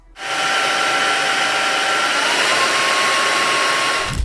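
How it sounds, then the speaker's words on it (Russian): A Polaris PVCW 4050 wet vacuum cleaner runs with a loud, steady broadband roar and a faint motor whine. It holds constant for about four seconds before cutting off. "Уровень шума у пылесоса средний, в пределах 72-74 дБ, в зависимости от выбранного режима"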